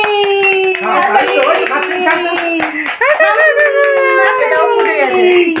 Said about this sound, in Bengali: মাম্পি হাততালি